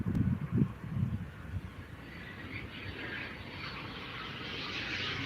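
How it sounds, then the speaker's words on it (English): A private jet passes at Oslo airport, its steady broadband engine roar and rising whine building gradually and holding loud toward the end, with a few brief low thumps near the start. "Right, yet another private jet here."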